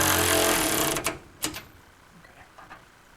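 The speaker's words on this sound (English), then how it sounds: "now I'm going to switch off from my electric ratchet" An electric ratchet spins down on a bolt during a tire change in a home garage, a dense mechanical buzz for about a second followed by a few short clicking bursts that fade.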